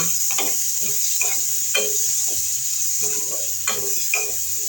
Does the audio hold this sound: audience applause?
no